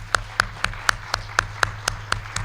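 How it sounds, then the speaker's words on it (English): Sparse, evenly spaced claps ring out roughly every quarter second from a conference audience at an IEEE Vis 2022 session, sharp and distinct in a steady rhythm over a low room hum. "Let's give another round of applause to all of our speakers today."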